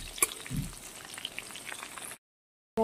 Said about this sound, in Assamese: এইটো ৰঙচুৱা হৈছে, অলপ সময় আৰু ভাজিলে হৈ যাব